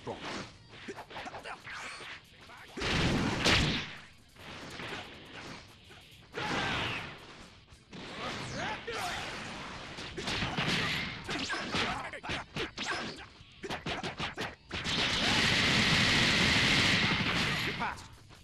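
Vegeta's ultimate attack in Dragonball Xenoverse: a flurry of heavy impacts and crashing blasts in uneven bursts, ending in a long roaring rush of energy, with a voice talking between the hits.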